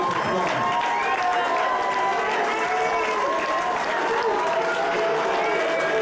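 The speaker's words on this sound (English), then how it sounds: "let's give both of these fighters a big round of applause" A crowd at a Shamrock FC mixed martial arts event applauds the two fighters, loud sustained clapping mixed with cheering and arena noise, with a voice over the loudspeaker heard through the din.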